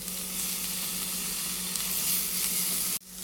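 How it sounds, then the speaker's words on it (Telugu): Green chillies frying in hot oil for a gongura egg curry, a steady close sizzle that cuts off abruptly near the end. "పచ్చిమిర్చి కూడా వేసి వేగనిస్తున్నాను"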